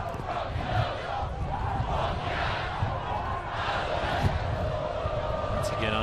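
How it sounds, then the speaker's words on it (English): A big stadium crowd at a U.S. Open Cup soccer match between Detroit City FC and Michigan Bucks, roaring and chanting steadily from a distance while a commentator talks over it. "Big crowd on hand, as always"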